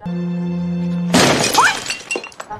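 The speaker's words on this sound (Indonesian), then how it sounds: "menendang pot bunga hingga hancur" A flower pot kicked over and shattering: a sudden loud crash of breaking ceramic, followed by scattered clattering fragments, right after a sustained musical tone that cuts off.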